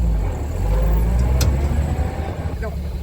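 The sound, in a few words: 1975 Jeep CJ5 engine while being driven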